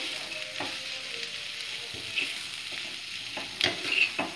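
A spiced mixture fries in a pan while being stirred, a soft continuous sizzle broken by a few sharper scraping knocks toward the end, no speech.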